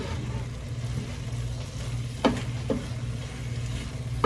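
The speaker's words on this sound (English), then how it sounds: "So I'm gonna let that marinate and simmer" Spiced samosa filling sizzles gently in a pan, a soft continuous crackle with a low background hum and a couple of brief scraping stirs.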